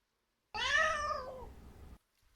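Single cat meow from an invisible cat emote in the video game Nine Sols, a clear, close, rising-then-falling mew lasting about a second and a half, heard alone.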